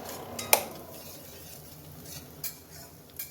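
Onions stirred with asafoetida in a metal kadhai, a spoon clinking sharply against the pan once near the start, then softer scraping with a faint low sizzle underneath, close and fairly quiet.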